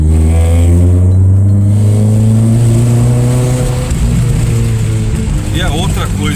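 A Chevrolet Kadett SLE fitted with an FT300 engine accelerates hard, its engine roaring loud and close in a sustained, strained drone as the revs build, heard from inside the car.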